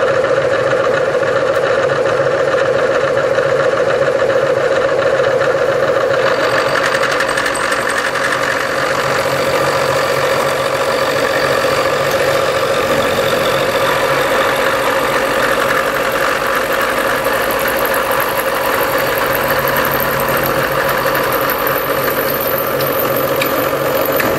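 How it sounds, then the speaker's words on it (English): A milling machine takes a heavy conventional cut on a Fiat 128 connecting rod, producing a loud, steady, close grinding whir with a constant motor tone throughout and no talking. "Conventional milling, taking off the majority of the material,"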